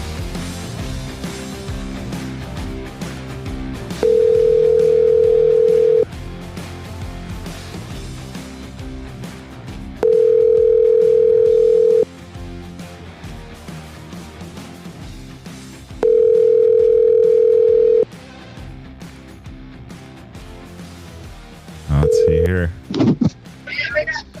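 Three long steady telephone dial tones, each about two seconds, separated by background chatter and music as a call is placed to a Baja 1000 racer, ending with a brief ringing burst.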